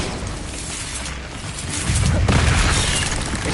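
A Bombarda blasting spell detonates in the Hogwarts Legacy video game, a loud booming burst that swells midway and rumbles on over dense, busy game sound.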